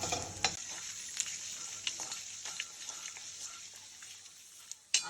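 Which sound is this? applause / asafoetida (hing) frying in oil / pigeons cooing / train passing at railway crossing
asafoetida (hing) frying in oil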